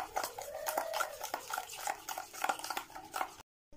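A utensil stirs egg and sugar together in a bowl, producing quick repeated scraping and clinking strokes at close range, with a brief tonal squeak early on and an abrupt stop at the end.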